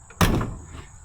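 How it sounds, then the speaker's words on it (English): The door of a 1968 Ford Mustang that sat for 30 years swings shut with a single solid, close thud and a short rattling decay, with no talking. "Door's shut nicely."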